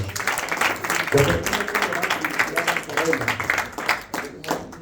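Worshippers at a Spanish-language church service clap their hands, uneven, fairly close group clapping that swells and fades in bursts while a voice talks over part of it.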